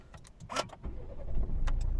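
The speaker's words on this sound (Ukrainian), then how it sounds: "З півтика автомобіль заводиться" A 2.0-litre diesel Volvo V60 D3 starts on the first try, with a brief starter burst settling into a steady, close-up engine idle that grows slightly louder.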